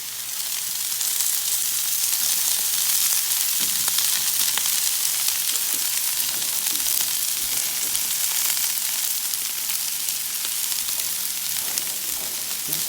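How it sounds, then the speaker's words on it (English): Vegetables sizzle in oil on a Blackstone griddle for beef lo mein, a steady, loud frying hiss that runs unbroken throughout with faint crackles and no talking. "you're only going to cook these veggies for 2 to 3 minutes. We'll hit them with a little bit of oil."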